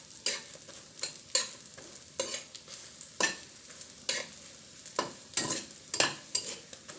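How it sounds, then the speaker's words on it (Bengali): An egg frying in a pan at home, made to go with vegetable khichuri: sharp sizzling bursts and scraping stir strokes repeat every half second or so, close and fairly loud, with no talking. "আর এদিকে আমি একটা ডিম ভেজে নিচ্ছি।"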